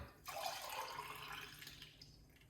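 Liquid pours in a brief, steady stream, splashing softly for about two seconds before trailing off.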